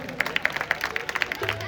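An audience clapping at a Pakistani 9th May celebration event, quick scattered claps in an irregular patter, fairly close, with a voice speaking underneath.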